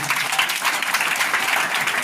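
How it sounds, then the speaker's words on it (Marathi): Audience at a Harinam devotional gathering at Sonale Dindeshwar temple clapping steadily, a dense sustained round of applause from many hands throughout, with no speech over it. "ही टाळ्या झाल्या पाहिजे"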